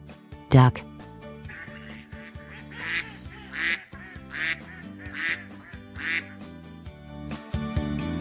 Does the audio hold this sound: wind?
no